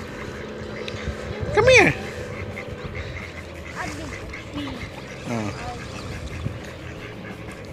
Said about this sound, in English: See? There's a lot of ducks.